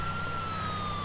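A police car siren in the video game GTA IV wails as a steady, loud, sustained electronic tone that glides slowly downward, heard alone over a low engine rumble.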